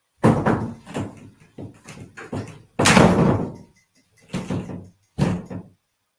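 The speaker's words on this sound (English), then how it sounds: "Is that doors closing?" Several doors close in succession with heavy thuds and slams, loud and near, spaced irregularly with brief pauses between them and no speech.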